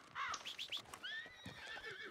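A horse in Red Dead Redemption 2 gives a short, close whinny, followed by a few hoof clip-clops, heard alone.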